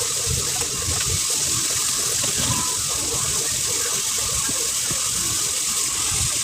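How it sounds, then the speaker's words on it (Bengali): Tap water gushes steadily into a kitchen sink while plates are rinsed, a continuous close hiss with faint clinks of dishes underneath and no one talking. "এখানে প্লেট বাড়ি যা ধোয়া ছিল না ওগুলোকে একটু ধুয়ে নিলাম"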